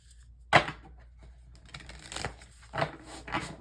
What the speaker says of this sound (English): I'm gonna shuffle these again